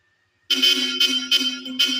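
A loud, buzzy Bosch Europa horn on a Suzuki Jimny starts after a moment of silence and sounds continuously, pulsing in four repeated blasts.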